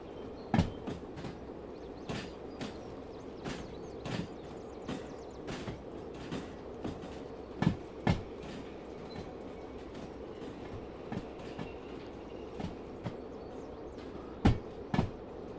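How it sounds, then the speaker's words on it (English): A train rolls along in the railway simulator Derail Valley during a freight haul, with steady rumbling and regular clickety-clack wheel beats over the rail joints, some louder pairs standing out. No one speaks. "We're just moving trains."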